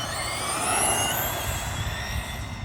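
Radio-controlled short course trucks, a Team Associated SC10 and a Traxxas, accelerating together with a loud, continuous high-pitched electric motor whine that rises in pitch, close by and without talking.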